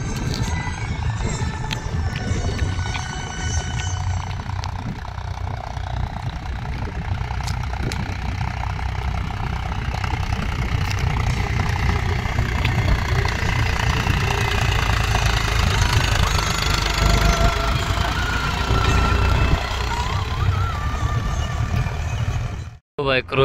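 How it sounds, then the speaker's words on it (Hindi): A 2.5-year-old tractor engine runs continuously nearby with a rough, knocking mid-pitched drone and slight rises in revs during a response check, cutting off abruptly at the end while a voice talks over it. "लो भाई करो रिस्पॉन्स चेक ट्रैक्टर का,"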